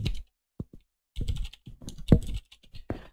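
Computer keyboard typing, a local IP address being entered: scattered clicky keystrokes in short clusters with brief pauses, close and distinct, no voices.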